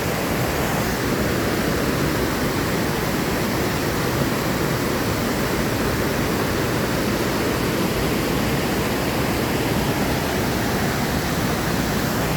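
A hidden waterfall at Savane roars as a continuous, dense wash of falling water, loud and steady throughout with no voices.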